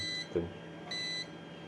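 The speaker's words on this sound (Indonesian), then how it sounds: "Ini bunyi bip seperti ini biasanya kekurangan daya." An APC UPS with a dropping battery gives its low-power warning: two steady electronic beeps, each about a third of a second long and close by, with a short spoken syllable between them.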